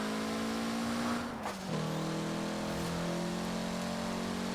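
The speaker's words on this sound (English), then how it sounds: "You can hear the turbo spooling." Turbo spooling on a 1992 Mitsubishi Galant VR-4, an all-wheel-drive car in Forza Horizon 4, heard within a steady, moderately loud engine drone whose pitch briefly dips and shifts midway before settling again.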